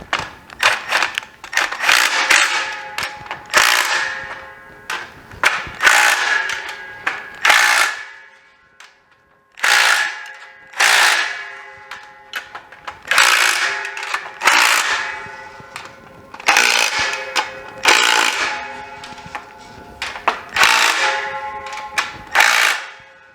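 A tool tightens fasteners while assembling a TX knock-down rack, making about a dozen loud, close bursts of mechanical whirring and ratcheting with brief pauses between them, and no voices.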